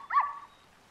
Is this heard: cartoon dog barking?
yes